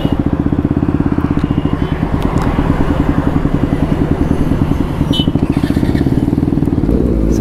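A modified Kawasaki ZX-10R sportbike engine idles close by with a steady, fast lumpy pulse and some clattery mechanical noise, running alone for the whole stretch.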